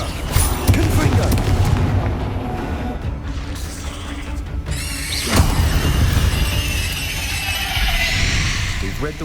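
Confringo fire spell in Hogwarts Legacy, heavy booming blasts with rumbling bursts and crackling debris over game music, one big impact about midway, a voice shouting the spell name.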